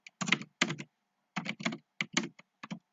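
Short bursts of typing on a computer keyboard, close and clear, in quick clustered runs of keystrokes separated by brief pauses.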